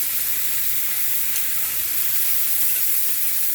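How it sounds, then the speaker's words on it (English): Red onions sizzle steadily in a hot pan alongside meat, a dense, even hiss of frying that stays close and constant throughout with no talking. "Go ahead and start your onions, and the onions will fit right in there in the pan with them."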